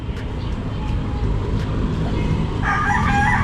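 A rooster crows near the end, moderately distant, over a constant rumble of traffic-like background noise.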